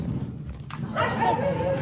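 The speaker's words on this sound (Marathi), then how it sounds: "आमचा कुत्रा या बापरे डेंजर कुत्रा आहे आणि तो बांधलेला नाही वाटतं" A dog that roams untied makes short yelping, whimpering sounds close by, mixed with a person talking, in a brief burst.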